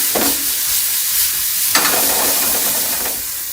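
Sea bass fillets fry in a non-stick pan, giving a steady loud sizzle with a couple of brief surges as the pan is shaken.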